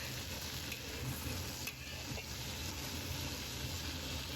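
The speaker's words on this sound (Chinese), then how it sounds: "跟着我们下入红椒丝。 继续煸炒至入味，大火爆炒半分钟" Green beans and red pepper strips stir-fried over high heat in a wok, giving a steady, loud sizzle with scraping stirring noises throughout and no talk.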